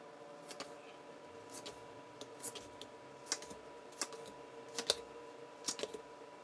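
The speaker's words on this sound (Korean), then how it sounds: "제가 카드 뽑아 볼게요." Tarot cards being drawn from a deck during a reading, a run of soft dry snaps and flicks in quick irregular bursts, close and fairly quiet, with no talking.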